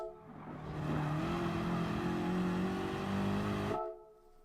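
A race car in GT Sport on the Nürburgring Nordschleife powering out of a corner, its engine a sustained loud rising drone that holds steady for about three seconds, then cuts off sharply.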